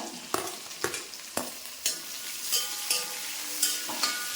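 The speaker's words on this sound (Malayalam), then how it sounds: "സവാളയും പച്ചമുളകും ഇട്ട് കൊടുക്കുവാണ്" Onions and green chillies fry in a pan with small onions, a continuous close sizzle punctuated by regular scraping knocks of a stirring spoon, with no voices.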